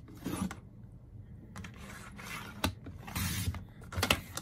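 Paper trimmer cutting cardstock for a handmade card: several short scraping, rasping strokes in bursts, close and moderately loud, with quiet pauses between them.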